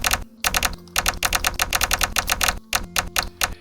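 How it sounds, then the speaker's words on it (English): Computer keyboard being typed on, fast bursts of crisp clicking keystrokes in uneven runs with short pauses, close and loud. "I'm going to go ahead and type some contrived text in here."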